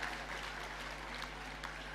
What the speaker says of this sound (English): Shall we applaud him again, ladies and gentlemen?